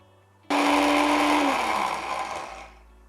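Kitchen blender whirring through a small batch of sunflower seed spread: the motor kicks in abruptly and runs loud and steady for about two seconds, its pitch dipping slightly as the load shifts, then winds down, with no talking.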